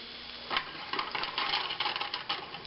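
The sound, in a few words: breakfast burrito potatoes sizzling in a pan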